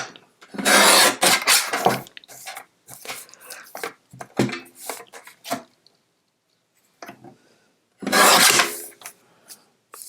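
Paper card stock is trimmed down for a recycled birthday card, with close, scratchy bursts of cutting and rubbing that come in uneven spurts separated by quiet gaps.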